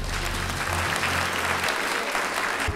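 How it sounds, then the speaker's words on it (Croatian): Audience applause for models presenting wedding gowns at a beauty pageant show in Zagreb, a continuous wash of clapping from a sizeable crowd, even in level throughout. "Podržimo ih velikim pljeskom."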